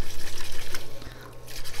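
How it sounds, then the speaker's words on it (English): A plant's root ball is swished and rinsed in water, making quick rhythmic sloshing and splashing pulses that are close and fairly loud. "rinse it real good in the water"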